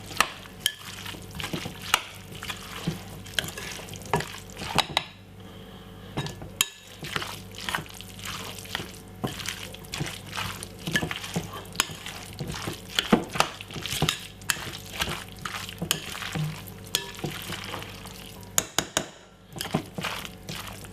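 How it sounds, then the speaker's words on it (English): Canned tuna being stirred together with mayonnaise and vegetables in a bowl, with repeated wet squelching and scraping clicks of a spoon against the dish in an irregular rhythm, close and fairly quiet. "Let's mix up this together now and see."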